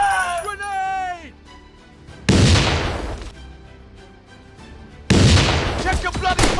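Two heavy booming blasts from a grenade and gunfire in a shooting video game land close and loud, each followed by a noisy rumbling tail, with a voice calling out in between.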